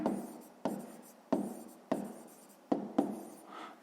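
A pen scratches across paper in short strokes, about six bursts with brief pauses between them, close and fairly quiet while working a sixth-grade maths exercise, with no voices.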